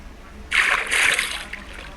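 A Minecraft character jumps into water in the game, giving a single bright splash that bursts in suddenly and fades over about a second, with faint talk around it.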